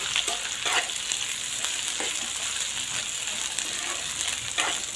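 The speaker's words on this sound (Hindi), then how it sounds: "प्याज डालेंगे, गाजर साथ में, सॉरी मिर्ची, अच्छे से मिलाएंगे।" Onion, carrot and green chili frying in a pan after turmeric has cooked, for a turmeric-carrot-chili sambharo pickle; a steady close sizzle runs throughout with occasional scraping stirs, no talking.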